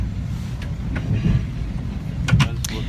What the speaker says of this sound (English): I feel like this is a newer train than what I've been on in the past.